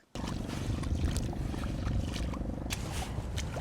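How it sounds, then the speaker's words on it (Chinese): A jet ski runs on open water, its engine a steady, loud, rough roar with splashing hiss on top, starting abruptly after a brief quiet moment and holding constant. "水上小摩托"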